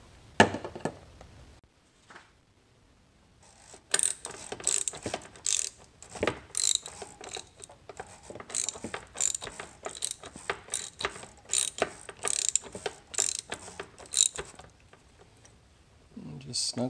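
A socket ratchet clicks in quick repeated bursts while tightening the oil filter housing on a Volvo V60, the close mechanical ticking running steadily for most of the stretch after a brief quiet start.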